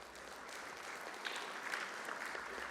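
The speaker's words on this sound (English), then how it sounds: "Would request a round of applause to our speakers" An audience at a healthcare conference session applauds its speakers: dense, even clapping holds steady throughout at moderate level, with no voices over it.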